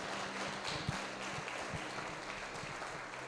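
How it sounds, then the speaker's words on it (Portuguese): A church congregation claps during a sermon, a soft, distant and steady patter of many hands over a low hum. "Você pode aplaudir ao Senhor no ato de fé"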